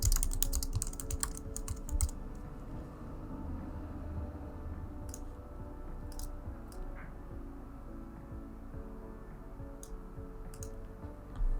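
Typing on a computer keyboard while building wireframes in Figma: a dense burst of quick key clicks at the start, then a quiet steady room hum, then a few scattered keystrokes and short clusters of taps.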